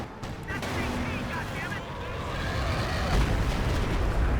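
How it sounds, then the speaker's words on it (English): An artillery strike lands in the Company of Heroes 2 strategy game, a continuous wash of rumbling booms and blasts that grows slightly heavier toward the end. "does call in a artillery strike at something"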